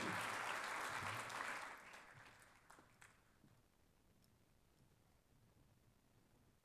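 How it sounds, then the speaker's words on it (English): Audience applause at a journalism symposium panel on influencers and content creators, a loud dense burst of clapping that fades quickly after the first second and a half into quiet room tone. "and maybe a round of applause"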